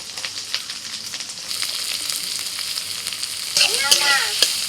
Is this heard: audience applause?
no